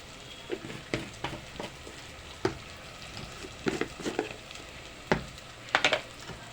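Ginger and garlic fry quietly in a pan, a soft steady sizzle broken by scattered clicks and taps of a spoon, with no voices.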